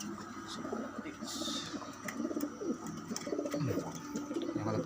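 Andalusian pigeons coo softly in repeated low, rolling calls, close by, with a brief brighter noise partway through and faint background sounds.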